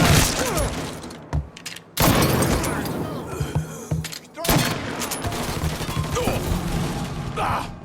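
Gunfire in the video game Mafia III: loud, close bursts of shots with brief lulls between them, set against a noisy firefight.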